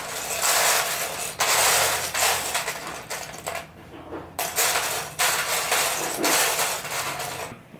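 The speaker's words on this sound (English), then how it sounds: "with that telltale little digging through Lego sound." Plastic Lego bricks clatter and rattle in bursts as a hand rummages through a pile, close up, with short pauses between scoops.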